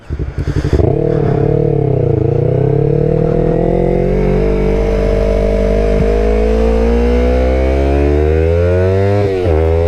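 A 2019 Yamaha R3 motorcycle with an aftermarket exhaust starts up and revs, climbing to a loud, sustained, rising engine roar that dips and surges again, very close to the microphone.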